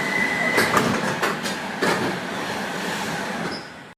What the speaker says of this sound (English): This is a Bakerloo Line train to Elephant and Castle.